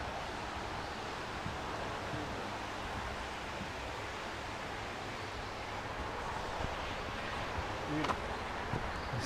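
The Davidson River runs beneath a bridge near a campground as a steady, broadband rush of flowing water, continuous and fairly even throughout with a few faint brief knocks near the end.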